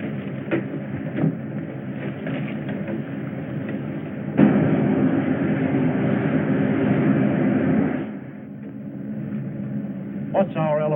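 A propeller aircraft engine drones loudly while climbing at about 2,000 RPM, a steady throbbing roar that jumps in intensity partway through and eases near the end.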